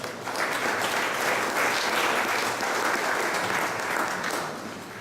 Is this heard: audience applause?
yes